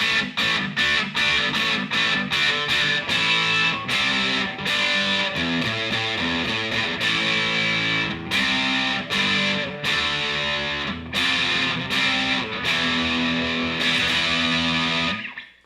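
A heavily distorted electric guitar plays a chugging riff with sharp accented chord hits, loud and continuous with brief stops between phrases.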